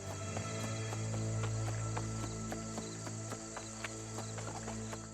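Horse hooves clip-clop at a steady trotting rhythm in the video game New World, sharp evenly spaced taps over a sustained musical drone, moderately close and fairly loud.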